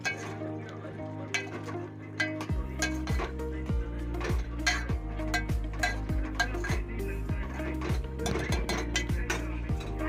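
Steady clinks of a metal spoon against a cooking pot while gathiya curry is stirred and mixed, a regular rhythm of close, bright scrapes and taps over a low steady hum.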